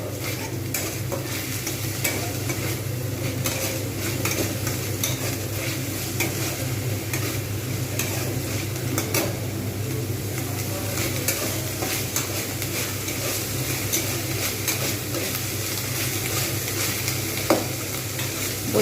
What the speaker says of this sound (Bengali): সুন্দরভাবে কিন্তু পেঁয়াজটাকে ভাজতে হবে